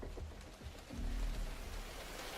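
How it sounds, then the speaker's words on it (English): Rain in the video game The Division 2 falls as a soft, steady wash of patter, faint and continuous with a low rumble beneath, no voices. "If we take rain as an example, to not only trigger the sound of rain when it rains"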